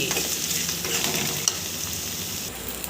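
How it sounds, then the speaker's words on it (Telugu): Green chilies frying in hot oil in a pan, a steady close sizzle with faint stirring scrapes, no voices. "ఇవి బాగా గోల్డెన్ కలర్లో ఫ్రై అయ్యే వరకు బాగా వేగనివ్వాలి"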